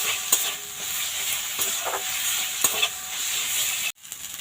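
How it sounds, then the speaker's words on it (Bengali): Spice paste with ginger-garlic frying in oil in a pan over a raised gas flame, stirred with a utensil: soft continuous sizzle broken by irregular scraping strokes, close and fairly quiet, with a brief cut near the end. "দিয়ে মশলাটা এবার একটু ভালো করে কষে নেব। গ্যাসের ফ্লেমটা এবার একটু জোর করে দিয়েছি।"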